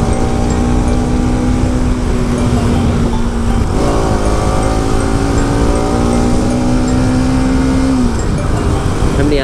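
Motorcycle ridden fast on the Kathmandu–Naubise highway, a loud steady engine drone with a sustained tonal whine that shifts pitch as the rider changes gear, overlaid with heavy wind rush throughout.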